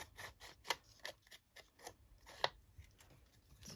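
Scissors snip through the edge of a large vintage book-page photo print, with a quick run of quiet, close, crisp cuts at an uneven rhythm in a still room.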